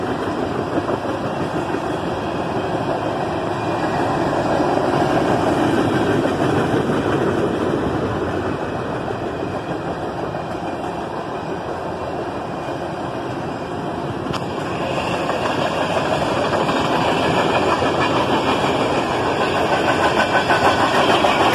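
A loaded coal drag freight train rolling steadily past, a loud continuous rumble and grinding roar that swells and eases slightly over about twenty seconds, close by, with no talking.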